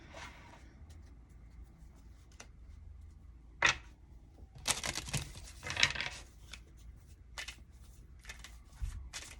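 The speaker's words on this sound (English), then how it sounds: "Let's shuffle the clarifiers." Tarot cards riffle and slap in a few quick bursts amid soft rustling and handling noises, close and fairly quiet, with no voices.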